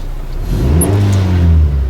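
A Honda Civic engine with a newly replaced exhaust manifold and catalytic converter revs up, its steady mid-pitched hum rising smoothly in pitch, loud and close, with no talking.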